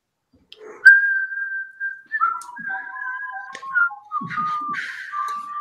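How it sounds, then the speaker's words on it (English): Sustained whistle tones, some held long and others shifting in pitch, sounding fairly close with a few low thumps mixed in. "The whistle's on."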